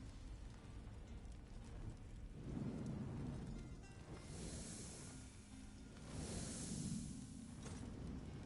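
A thunderstorm in the video game Elder Scrolls Online brings steady rain with low rolling thunder swelling twice, a quiet, soft ambience without talk.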